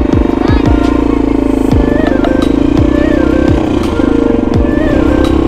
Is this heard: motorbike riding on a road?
yes